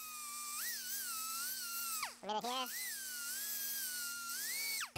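A high-pitched grinder whines steadily while a body hammer face is ground, dipping and wavering in pitch as the tool is pressed against the metal, with a brief stop and restart partway through.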